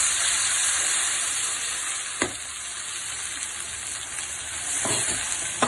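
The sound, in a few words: ground masala paste added to pan, frying and sizzling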